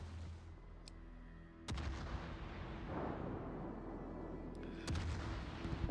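Warship guns firing in World of Warships, with heavy booming salvos that hit suddenly over a continuous low battle rumble, a couple of sharp cracks standing out, loud and close, with no talk.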